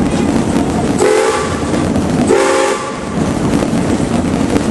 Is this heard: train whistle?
yes